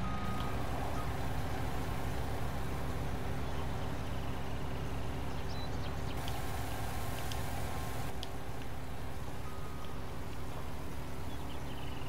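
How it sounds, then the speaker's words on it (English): Truck in Farming Simulator 19 pulling away from a barley field, with a steady low engine drone, a faint reversing beep and a constant hum that stays even throughout, with no talking. "He's gonna take the truck out."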